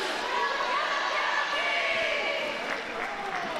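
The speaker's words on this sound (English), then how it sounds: "You hear the Killa Bees in here getting excited." Killa Bees roller derby team and crowd at an indoor bout: mixed cheering and excited shouts build under a commentator's voice, moderately loud and echoing.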